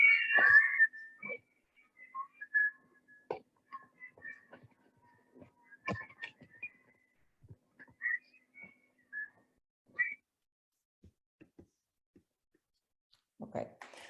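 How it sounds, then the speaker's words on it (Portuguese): Angola Combatente radio recording of guerrillas whistling and marching: sparse, faint whistled notes and scattered clicks and footfall-like taps spread over a quiet background. "Agora estamos a ouvir as guerrilhas a assobiar e a marchar."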